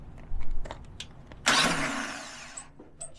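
After a few switch clicks, a dune buggy engine cranks and catches in one sudden loud burst, then runs briefly and fades as it dies away, recorded close with no talk.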